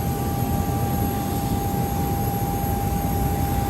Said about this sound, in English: there's a Southwest Airlines plane taking off right now